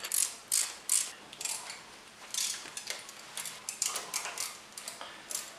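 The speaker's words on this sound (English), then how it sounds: "I have to have an extended crescent wrench or an extended wrench socket to get to that" A ratcheting wrench clicks in quick bursts as the exhaust manifold bolts on a Jeep CJ7 are loosened. The clicks are crisp and close, with short pauses between the runs.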